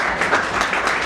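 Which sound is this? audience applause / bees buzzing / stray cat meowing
audience applause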